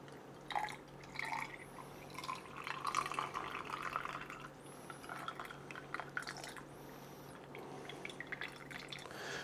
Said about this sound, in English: I'm gonna take our fully carbonated cocktail here and just pour it right down